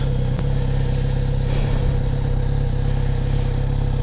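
A Kawasaki Z900RS SE four-cylinder motorcycle engine with four exhausts merging into a chrome collector runs steadily and close by, a low, even hum holding constant throughout with no talk.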